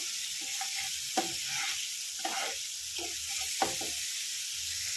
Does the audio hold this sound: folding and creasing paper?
no